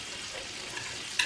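Meat sizzling in a hot pan, a dense steady frying hiss, close and fairly loud with a small sharp tick near the end.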